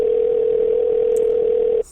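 A steady, unbroken telephone line tone with no ringing cadence holds loud and even for nearly two seconds, then cuts off abruptly. No voices are heard.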